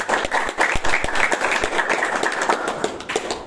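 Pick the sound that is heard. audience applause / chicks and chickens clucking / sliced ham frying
audience applause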